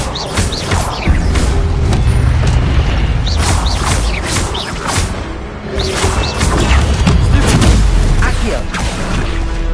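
Incendio fire spell cast again and again in the video game Hogwarts Legacy on PS4, with repeated whooshing bursts and booming impacts layered over a busy combat soundscape and a voice calling out spell names.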